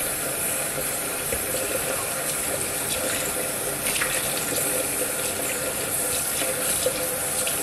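Tap water runs steadily into a sink as it fills, a continuous close rushing and splashing with no break, heard during a drought in California.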